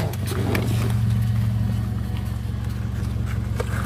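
A 2014 third-generation Toyota All New Limo, a former Bluebird taxi, idles close by with a steady low rumbling hum and faint ticking on top.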